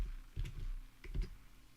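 Quiet keyboard typing while entering a repository name during Python setup, two short bursts of soft clicks close by with a pause between.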